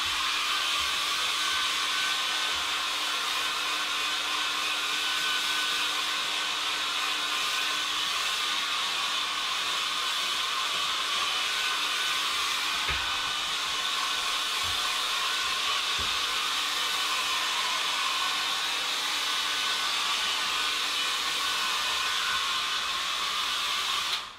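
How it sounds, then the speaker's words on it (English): A hair dryer blows with a constant, loud whooshing hum that runs without pause throughout, with a few faint knocks underneath. "Just using a hairdryer, folks."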